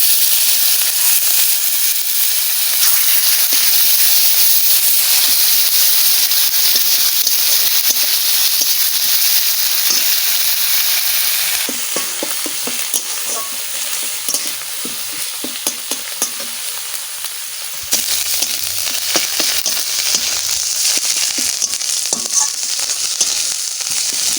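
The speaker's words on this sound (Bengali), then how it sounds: "মশলা ভালো করে ভাজা হয়ে গেছে" A ground spice paste made with whole cumin fries in a pan with a loud, continuous sizzle and hiss, with stirring scrapes throughout and no voices.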